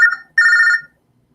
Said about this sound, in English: let me answer their fucking phone